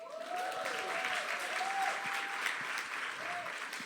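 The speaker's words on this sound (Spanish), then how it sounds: "Y ahora recibamos con un fuerte aplauso a Lili Barrera." Audience applause at a church conversation event welcoming a guest, a continuous moderate wash of clapping with a faint tonal whistle or feedback line running beneath it.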